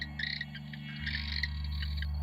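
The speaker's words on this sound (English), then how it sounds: "They have a call, a little trilling call, a little bit like a canary." A masked cave frog gives its trilling, canary-like call in a swamp, a series of high rapid trills repeating over a steady low hum, fairly close and clear.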